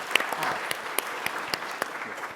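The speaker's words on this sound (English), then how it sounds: "we should really give ourselves and the governor and the state a round of applause for that." A small audience applauds at a Michigan policy conference, with sparse, scattered claps over a light crowd murmur, fairly faint and brief.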